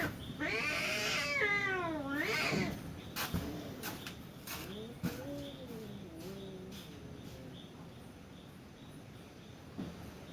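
Two cats fight inside a house, with loud, wavering yowls and caterwauls up close at the start, then quieter growling moans that fade into near silence.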